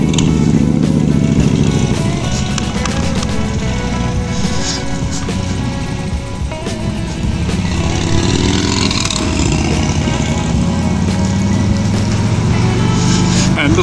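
Several Harley-Davidson motorcycles ride off together on a Tasmanian road loop. Loud, continuous engine rumble swells and shifts throughout, with some voices faintly underneath.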